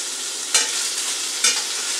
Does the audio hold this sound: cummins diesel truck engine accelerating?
no